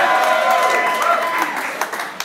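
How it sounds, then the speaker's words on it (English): A crowd at a music awards night applauds in a steady, full wash of clapping that holds for a couple of seconds and tapers slightly, with some voices mixed in. "Round of applause."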